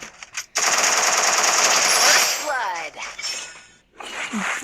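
Rapid automatic gunfire rattles loudly in a shooting video game, with bursts, impact clinks and shattering sounds as headshots land, broken by brief gaps.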